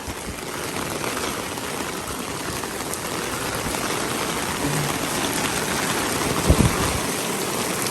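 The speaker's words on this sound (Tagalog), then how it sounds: "Umuulan na mapakalakas" Heavy typhoon rain falls in Taiwan as a dense, steady roar of rain with no break, with a faint brief knock near the end.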